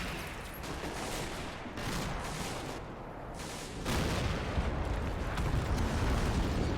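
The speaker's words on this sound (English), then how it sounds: "I can hear some big explosions too" Continuous rumbling explosions and artillery fire in the Men of War video game's Battle of Seelow Heights 1945, heavy booms layered into a dense, sustained roar that swells louder partway through.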